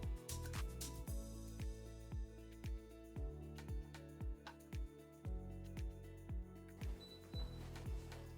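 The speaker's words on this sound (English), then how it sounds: "On the app, I just press the shutter button to start taking a photo." A Realsee Galois M2 360 camera capturing a photo gives a long series of regular mechanical clicks and whirring steps, about a dozen evenly spaced ticks, fairly quiet and close, with no talking.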